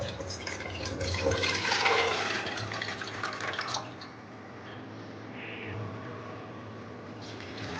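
Water splashes and pours into a pot of soaked chana dal being readied for boiling, a fuller gush for about four seconds that eases into softer trickling and faint stirring.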